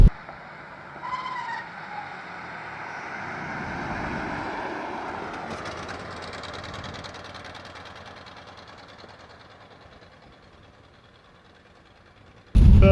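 The engine of a 1971 Dodge Dart, an original-paint barn find, runs roughly and barely keeps going, a low uneven rumble that swells and fades as the car creeps along, with a sharp knock at the very end.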